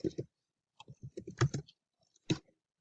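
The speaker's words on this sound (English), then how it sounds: "typing in a text" A few short bursts of soft keyboard clicks, separated by brief pauses, close and fairly quiet with no talking.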